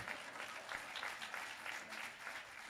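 Audience applause fills a large hall at a political discussion event, steady dense clapping from many hands held at an even level throughout, with no voices rising above it.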